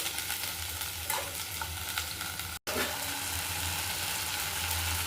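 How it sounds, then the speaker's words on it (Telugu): Garlic, tomato and mint leaves fry in hot oil with a loud, continuous sizzle and occasional stirring scrapes, interrupted once by a brief silent gap. "తర్వాత టమాటా, పుదీనా అన్నీ వేసేసుకొని బాగా ఫ్రై చేసుకోవాలి."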